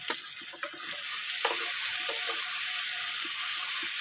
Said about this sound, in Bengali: একটু চিনি দিয়ে ভালো করে নাড়াচাড়া করছি।